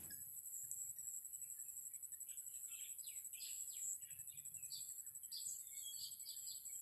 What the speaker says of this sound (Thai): เสียงนกฝึกสุดยอดเลยครับผม